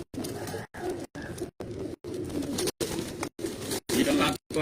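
Pure-bred pigeons cooing close by in a series of repeated throaty coos broken by brief silences, one call after another, with no talk.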